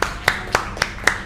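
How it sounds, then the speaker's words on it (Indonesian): Classroom clapping for a student group, five sharp distinct claps in an even rhythm, close and fairly loud, with a quiet room between them. "Tepuk tangan untuk kelompok 4"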